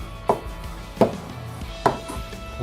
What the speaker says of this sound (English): So we're going to chop every type of meat